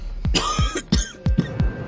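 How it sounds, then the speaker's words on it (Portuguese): Harsh, close coughing from a man waking up coughing blood, about five sharp bursts in quick succession with short gasps between them. "ele acorda tossindo sangue"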